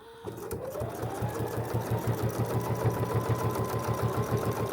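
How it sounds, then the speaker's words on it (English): A sewing machine runs a quarter-inch seam on a quilt-as-you-go potholder made from jelly roll strips. It starts up and settles into a fast, steady, rhythmic whirr and clatter that sounds close, with no one talking. "So then we're just going to do a little 1/4 inch seam here."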